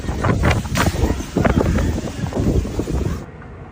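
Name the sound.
strong wind gusts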